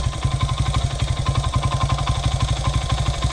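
A motorcycle engine idles with the choke on, a fast, even, slightly uneven-edged putter of regular pulses, close and steady throughout with no talking.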